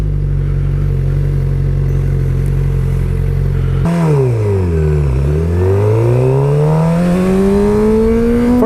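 A loud, close motorcycle engine idles steadily, then revs up, drops as it shifts, and climbs again through the gears with a rising whine.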